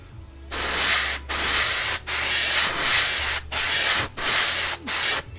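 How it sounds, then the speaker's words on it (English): Close, loud bursts of spray paint hissing onto a 1/14 scale Tamiya Volvo FH12 model truck, about six in a row, each lasting most of a second with brief silent gaps between. "So one of the things you do when you're spraying is"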